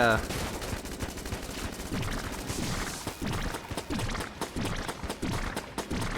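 Rapid, continuous shooting in the Enter the Gungeon video game during a boss fight, with dense overlapping gunfire bursts running throughout at steady loudness.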